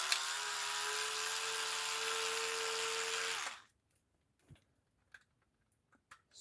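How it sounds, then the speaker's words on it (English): A small motorized screwdriver whirs steadily for a few seconds while unscrewing screws from a Maisto 1/24 scale model truck, then cuts out, followed by a few faint scattered clicks and taps. "unscrew all the screws from here"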